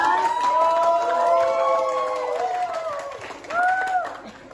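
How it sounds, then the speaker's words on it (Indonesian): Students in a classroom clap for a classmate's correct answer, a short burst of applause with cheerful voices and shouts layered over it, close and lively. "Tepuk tangan temannya bisa menjawab."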